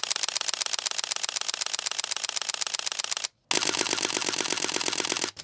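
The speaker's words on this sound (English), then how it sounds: "let's do a test now between the shutter sounds between this camera and the Sony a7R III" A 16-year-old digital camera fires its shutter in rapid continuous bursts, loud and close, a fast mechanical clatter that pauses once briefly and resumes before a final short stop.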